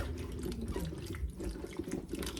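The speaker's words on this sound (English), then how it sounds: "just need to rinse out our okra now" Tap water runs steadily into a kitchen sink to rinse okra, a continuous close splashing wash with no talk.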